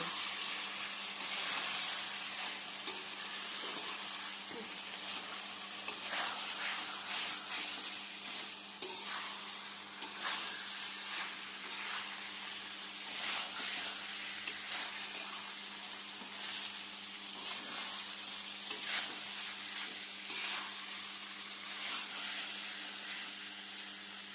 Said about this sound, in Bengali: পরিমাণ মতো টমেটো বাটা দিয়ে দিয়েছি এবার আমরা ভালোভাবে মিশিয়ে নেব